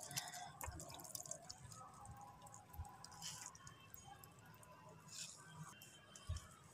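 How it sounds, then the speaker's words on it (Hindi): Grated radish is squeezed by hand, and the pressed-out water patters and drips in small irregular splashes, quiet and close, with faint background noise. "ये देखिए पानी सारा निकल रहा है अंदर से।"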